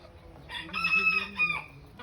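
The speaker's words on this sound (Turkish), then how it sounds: "Burada gene yarışmaya gelecek çok güzel bir horozumuz." A single loud crow from an İspenç rooster, close by, rising and holding for about a second before trailing off.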